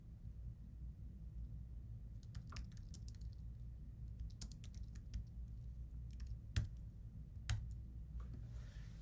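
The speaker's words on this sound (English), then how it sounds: "Let me go in here and type in so we can see which is which." Typing on a computer keyboard: sparse, quiet key clicks in small clusters over a low steady background hum, with a couple of louder, sharper keystrokes near the end.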